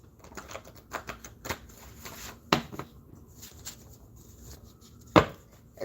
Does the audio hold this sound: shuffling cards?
yes